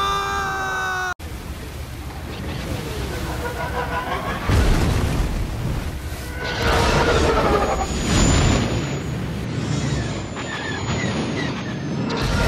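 Heavy blaster fire and explosions in a Star Wars fan parody set under the sea, with booming bursts and sustained roaring noise over several seconds, loud and close, mixed with shouting voices.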